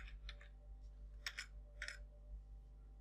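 Light keyboard typing while a barcode is made in Photoshop: a few soft key clicks in short clusters over a steady low hum, fairly quiet with no voices.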